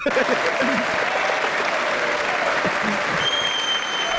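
A crowd applauds continuously, thick and steady clapping throughout, with low voices murmuring beneath and a faint whistle-like tone near the end.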